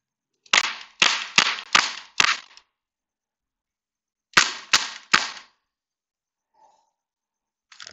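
Sharp, loud shots from an Umarex XBG CO2 air pistol: five quick cracks in a row, a pause of about two seconds, then three more, each with a short hissy tail, heard up close with no talking.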